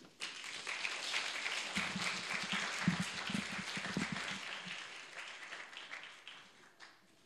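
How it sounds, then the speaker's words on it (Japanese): Church congregation in Japan gives warm applause to welcome a visiting pastor. The clapping swells steadily, is briefly joined by a few low murmurs, then tapers off with scattered final claps. "拍手を持って佐藤先生をお迎えしましょう。"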